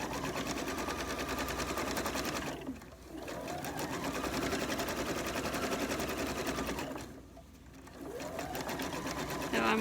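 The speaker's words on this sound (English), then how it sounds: "make sure if your sewing machine has a feature to keep the needle down" A sewing machine stitches around the corner of a cloth napkin with the needle held down, a rapid, steady mechanical whirring that stops briefly twice before resuming.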